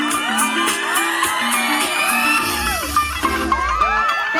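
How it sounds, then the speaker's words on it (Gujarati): A party crowd at a carnival celebration cheers, whoops and shouts for Vrushabh and his team, loud and close, with excited voices overlapping throughout. "જોરદાર તાળીઓ થઈ જાય વૃષભ એન્ડ ટીમ માટે"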